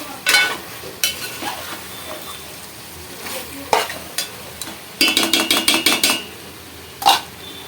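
Chicken curry with masala and tomato gravy cooks in oil in a pan while a spoon stirs it, giving a soft sizzle broken by sharp scrapes and clatters, including a quick burst of rapid strokes.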